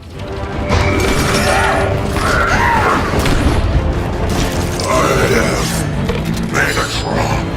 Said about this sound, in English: Seeing Megatron quickly break out of his ice and wreck stuff was totally typical of his character.